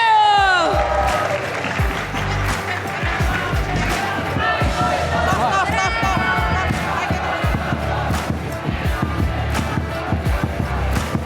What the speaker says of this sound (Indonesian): Sekali lagi beri tepuk tangan untuk tim RRQ